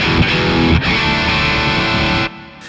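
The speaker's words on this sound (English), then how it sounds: "So we can switch on to EL34s like a Marshall." Electric guitar played through a BOSS Katana amp and ENGL Cabloader set to EL34 power-tube emulation, giving a loud, distorted, sustained chord with thick harmonics that rings for about two seconds before cutting off abruptly.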